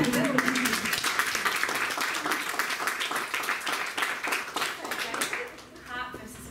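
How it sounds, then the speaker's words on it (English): Audience members clap throughout a talk marking an honorary doctorate, with broadband patter that is steady at first and then thins toward the end. Voices murmur along with it. "you can clap if you want"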